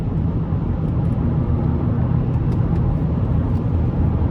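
A 2016 Chevrolet Traverse LT with a 3.6 V6 at about 92,000 miles, heard from inside while driving, gives a loud, steady low cabin rumble of engine and road noise with little change through the shifts.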